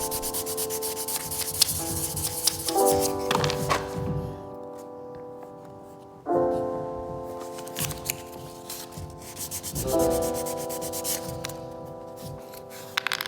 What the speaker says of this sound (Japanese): 320番のサンドペーパーでこすってます。